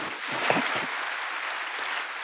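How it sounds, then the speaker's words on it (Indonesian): A church congregation applauds during a worship service, a soft, diffuse spread of clapping heard from a distance, fairly quiet and continuous. "Berikan tepuk tangan kita kepada Tuhan"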